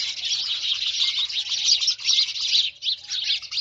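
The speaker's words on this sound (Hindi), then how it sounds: "सुबह का समय है, चिड़ियाओं की चहचहाहट" Sparrows and other small birds chirp and twitter densely and continuously at a cow shelter on a spring morning, a bright, busy chorus close by with no talk.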